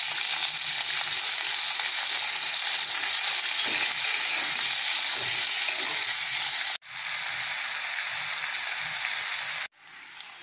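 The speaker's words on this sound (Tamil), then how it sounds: "போட்டு நல்லா வதக்கி எடுத்துக்கலாம்." Onion, garlic and green chili sauté with cumin in a hot pan, giving a close, steady, bright sizzle that cuts off abruptly twice, with soft stirring beneath and no talking.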